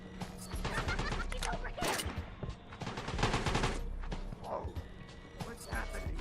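Sniper gunfire rattles through a chaotic action game scene as a series of sharp cracks and bursts, mixed with clattering effects and voices talking throughout.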